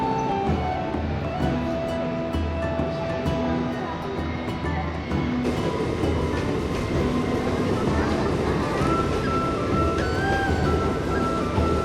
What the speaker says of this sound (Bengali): ইতিমধ্যে আমাদের ট্রেনটি চলে এসেছে আমাদের প্ল্যাটফর্মে